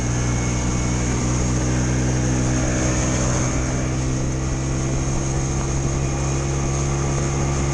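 A Yerf-Dog go-kart engine runs steadily after a restart, a loud continuous drone with a strong low hum and a constant buzzing whine held at one level throughout.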